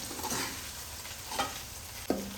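Ginger garlic paste, about two spoonfuls, frying in a pan while being stirred, with a soft continuous sizzle and a few scraping stirs, the last one sharper and louder near the end.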